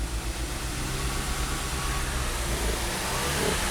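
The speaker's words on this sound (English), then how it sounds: "I'm going to rev it up a little more." Engine of a 2014 VW Jetta GDI turbo with an intermittent misfire and low power, revving steadily with a loud, continuous drone close to the microphone.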